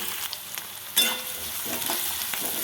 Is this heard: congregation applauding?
no